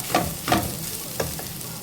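Chicken curry sautéing in a pan, with a spoon stirring in three or four distinct scraping strokes over a steady sizzle, close and fairly loud.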